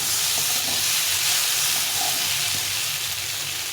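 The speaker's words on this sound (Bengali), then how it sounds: "তো পোস্তটা দিয়ে একটু নাড়াচাড়া করে নিয়েছি" Poppy seed paste stirred and fried in a pan for aloo posto, giving a steady, even sizzle with a faint scrape of stirring underneath, close and continuous throughout.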